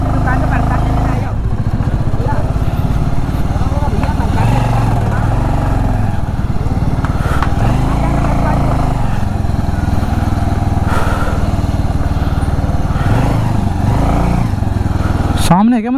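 A motorbike's engine runs steadily and loudly throughout while riding near a temple entrance in Ujjain, with people talking over the continuous mid-pitched engine drone.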